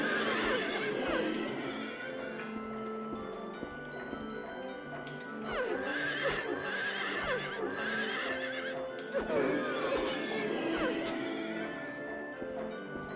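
Horses in Silent Hill 3 neigh and whinny in several shrill, rising cries with clip-clopping hooves in between, fairly prominent over a faint background ambience.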